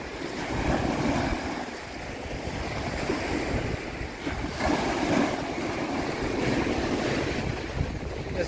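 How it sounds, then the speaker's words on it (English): Waves wash onto a sandy beach at Belek, Antalya in a light breeze, a continuous rolling surf with gentle swells and some wind rumble on the microphone, no voices heard. "This is the beach."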